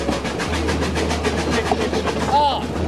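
A steam train rolls along the rails with a steady low rumble and rhythmic clickety-clack of wheels over joints, close and continuous, and a brief whistle-like squeal near the end.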